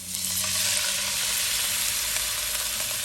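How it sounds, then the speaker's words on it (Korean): Burdock root stir-fries in a hot pan with a continuous loud sizzle that stays steady throughout. Faint scraping from stirring sits underneath. "처음에 이렇게 달달 볶아줍니다. 타지 않게 타지 않게 볶는데"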